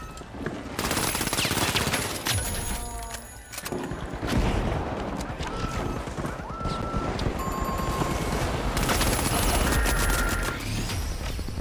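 Automated turret fire in the video game THE FINALS hammers away almost nonstop, loud and close, as dense rapid bursts layered with other gunshots and a few heavier booms, with only brief lulls.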